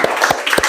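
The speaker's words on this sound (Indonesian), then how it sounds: "tepuk tangan buat kelompok 2" Brief burst of clapping from a classroom group of students, a short scattering of hand claps lasting under a second, close and fairly loud.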